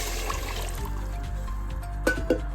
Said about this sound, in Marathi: पाणी ॲड करते